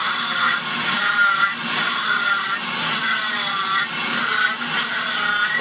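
A rotary carving bit grinds steadily into wood while shaping a wizard's pointed hat, giving a loud, continuous abrasive whir with slight dips in intensity and no talking.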